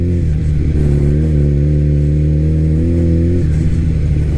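A 1000cc motorcycle engine hums and revs up and down while riding a loose, muddy off-road track, with a close, loud, steady drone that rises and falls in pitch, heard alone without talk.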